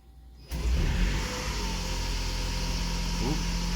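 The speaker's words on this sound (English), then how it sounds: "Ooh, gas engine started." The gas engine of a Toyota Estima hybrid fires up abruptly after a quiet moment, then settles into a steady, loud, close idle hum with a brief chirp partway through.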